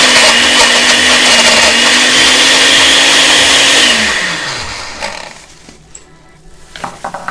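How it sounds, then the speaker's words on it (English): A smoothie maker blends a thick breakfast smoothie with ice, its loud, steady motor whirring for about four seconds before winding down and stopping, followed by faint rattles and handling noises. "we can now begin to blend together. This is a smoothie maker"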